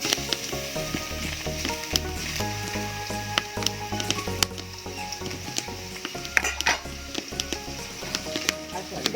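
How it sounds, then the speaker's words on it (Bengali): Chopped onion fries in hot oil left from frying fish, a close, busy sizzle with sharp crackles and spatters, a low hum beneath, and clinks of stirring. "এবারে তেলের মধ্যে পেঁয়াজ কুচি দিয়ে দেবো।"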